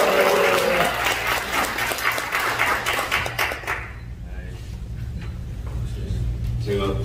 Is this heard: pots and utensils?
no